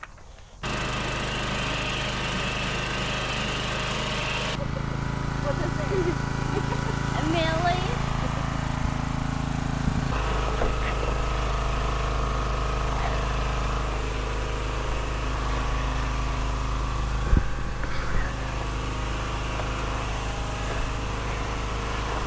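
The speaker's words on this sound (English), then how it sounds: "get the pressure washer started because we have a history of not getting these started at all" A pressure washer engine starts and runs with a steady, loud mechanical drone that shifts in pitch and load a few times, while people talk over it nearby.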